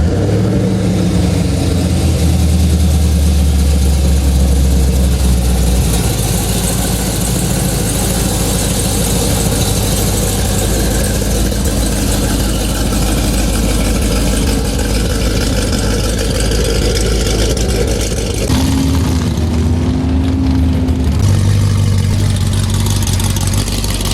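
A Camaro ZL1 at a race track idles with a deep, steady rumble, swelling into heavier revs near the start, then settling back to a lower idle with a brief dip and a renewed rise toward the end.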